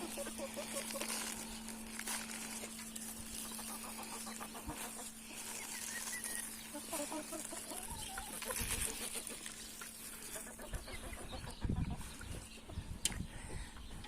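Chickens cluck and murmur steadily as wheat is scattered on the ground for them, a busy flock close by with repeated soft clucks over a constant background hum.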